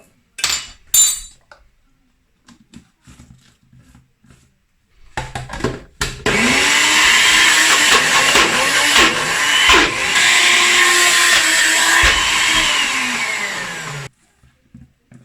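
A blender purees tofu with a tablespoon of olive brine for smoky vegan cheese, starting with a few quiet clinks and handling noises, then running loud and steady for about eight seconds before it cuts off.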